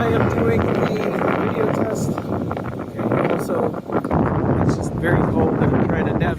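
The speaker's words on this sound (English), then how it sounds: "And it's super windy" A strong, cold outdoor wind buffets the microphone in loud continuous gusts with rumbling low roar, and a person talks through it.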